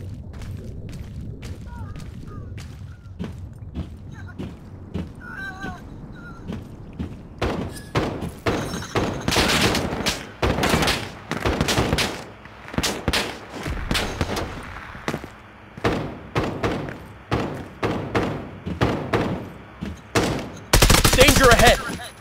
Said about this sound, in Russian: Он стреляет.